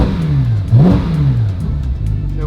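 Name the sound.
Ferrari 458 GT3 engine revving to soft limiter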